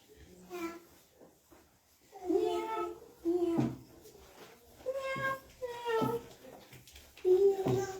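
A kitten meows repeatedly in short, high, wavering cries spaced a second or so apart, close and clear, with voices talking softly in between.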